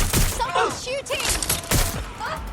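Bursts of gunfire crackle in Watch Dogs Legion, with several sharp shots going off amid loud shouted in-game dialogue.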